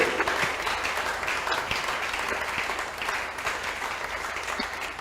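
A church congregation claps steadily and loudly, a dense sustained wash of applause with a faint crowd murmur underneath.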